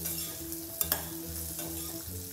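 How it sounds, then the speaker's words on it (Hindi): Green chillies fry with potatoes in a pan for sabudana khichdi, a steady soft sizzle under a low hum, with a couple of sharp spatula clicks near the middle and light stirring scrapes. "हम अब ये हरी मिर्च डाल के 1 मिनट के लिए अच्छे से भून लेंगे"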